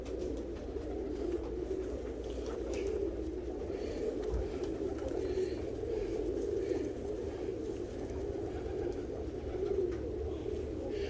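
Soft, low cooing from tippler pigeon cock birds in a loft, a continuous murmuring coo heard close and steady throughout, with no clear talk over it.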